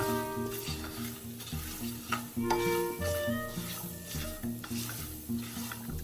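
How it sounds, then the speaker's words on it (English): Peppers and garlic sautéing in a pan for chicken cacciatore, a continuous close sizzle with steady stirring scrapes and faint background music underneath. "Once your peppers and garlic have sauteed for 5 minutes"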